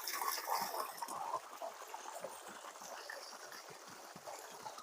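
Irrigation water from a motor pump pours steadily into a wheat field, a continuous splashing gush that runs without break at moderate level.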